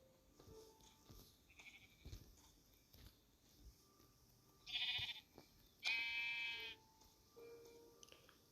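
Two short, bright bleats from a sheep in Minecraft Java Edition ring out amid sparse clicks and soft game sound effects, with quieter gaps in between.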